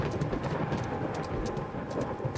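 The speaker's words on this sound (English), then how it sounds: "I can hear horses in the distance." Distant horses at manor stables in the eerie video game The Seance of Blake Manor give faint, muffled clip-clop hooves over a steady rumbling, rain-like ambient wash.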